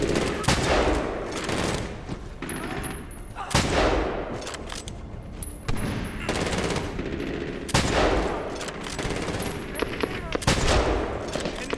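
Rapid, loud gunfire bursts crack and echo in Medal of Honor Warfighter during a hotel shootout, with dense overlapping shots and blasts continuing nearly without pause.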